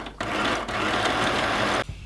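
A sewing machine stitches braiding onto an elasticated skirt in one continuous close burst of fast, even whirring that starts and stops sharply, with no talking.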